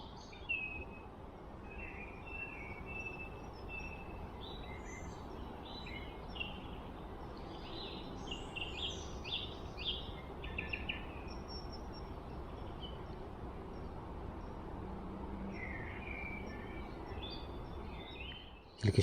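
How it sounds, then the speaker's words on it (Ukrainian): Birds chirp and sing steadily over a low, continuous rumble of outdoor background noise, with scattered high calls throughout. "тут так гарно пташки співають"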